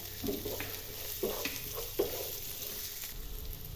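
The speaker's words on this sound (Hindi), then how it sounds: "अब हम इसमें अपना कटा हुआ अनियन डाल देंगे। इसे बस हल्का सा भुनना है।" Chopped onion fries with garlic in a pan, a soft, steady sizzle marked by a few gentle stirring scrapes, heard close and with no talking.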